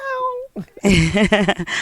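A pet cat gives a drawn-out, falling meow at the start, then a person talks over the rest of the clip in a home.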